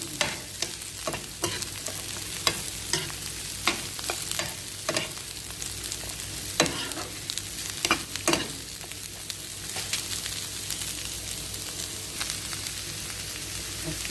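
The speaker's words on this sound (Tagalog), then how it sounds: "isunod ko naman yung cabbage. Mix lang natin ganyan" Cabbage being stir-fried for homemade fried rice: a continuous sizzle in the pan, broken by repeated sharp scrapes and clacks of a utensil mixing the food, close by and with no talk.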